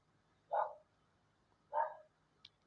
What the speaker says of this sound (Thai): น้องหมาเห่านิดนึงนะครับ